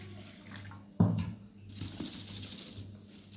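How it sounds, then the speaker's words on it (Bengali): Water poured into a pot to rinse flattened rice (chira) for breakfast, a sudden splash followed by steady running and trickling water, fairly quiet and close, with a faint background hum. "আমি প্রথমে চিড়াগুলো ধুয়ে নেওয়ার জন্য জল নিচ্ছি"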